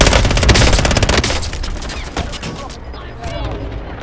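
Rapid automatic gunfire in Call of Duty Warzone, a dense rattling burst of shots up front that thins into scattered cracks and fades out, loud and close.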